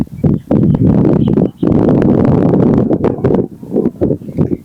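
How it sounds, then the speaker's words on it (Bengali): Gusty wind rising outdoors ahead of rain under darkening clouds, buffeting the microphone in loud, sustained roaring bursts with brief lulls between gusts. "পাচ্ছেন বাতাস কিন্তু ছেড়ে দিয়েছে অলরেডি।"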